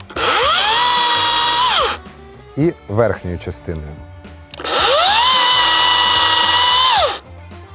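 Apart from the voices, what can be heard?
chainsaw cutting wood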